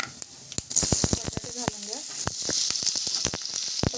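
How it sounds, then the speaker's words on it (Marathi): Peanuts sizzle loudly in hot oil in a pan while cooking batata poha, with sharp scraping clicks of a spoon stirring them throughout. "आता शेंगदाणे घालून घ्या जरा फिरवून घ्या गॅस कमी करा"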